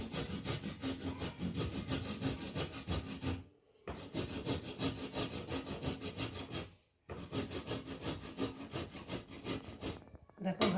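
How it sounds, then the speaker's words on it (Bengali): Carrots rubbed steadily across a hand grater in a home kitchen, a continuous close, rasping scrape in long strokes broken by two brief pauses, no talk. "এখন আমি গাজরটাকে ঘষনি দিয়ে ভালো করে ঘষে ঘষে নিই"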